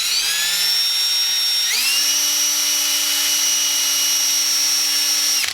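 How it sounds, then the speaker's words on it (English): A power drill bores holes in aluminum, a loud, steady, high whine that steps up in pitch early on, holds for several seconds, then cuts off abruptly. "So now I'm going to go ahead and drill them."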